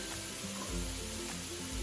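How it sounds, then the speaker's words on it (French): Onions and bacon lardons frying in a pan, a brief close hiss of sizzling fat that holds steady with no voices. "Histoire de faire revenir vos oignons avec les lardons"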